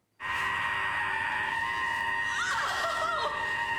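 An anguished, sustained primal scream from a scene in the TV drama Torchwood, loud and unbroken after a sudden start and strained throughout.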